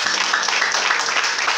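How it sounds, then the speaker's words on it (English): Steady applause from a class or group as a woman stands up, dense continuous clapping from many people heard throughout at moderate level with no talk over it. "Please give her a round of applause as she's standing up"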